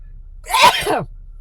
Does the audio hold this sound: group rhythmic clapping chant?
no